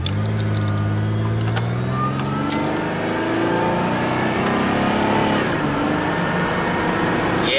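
A 1995 Chevy Lumina engine revs and accelerates hard onto a highway, a loud sustained roar with rising pitch sweeps as it gears up, close and steady throughout.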